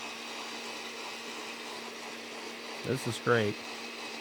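An electric mixer whirs steadily at close range in a kitchen while puff pastry dough is being made, a constant motor drone with a brief spoken remark over it near the end.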